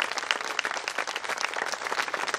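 A concert audience applauds the Filarmonica Sestrese orchestra at a performance by the Accademia Musicale di Arenzano, with dense, steady clapping that fills the hall at moderate loudness.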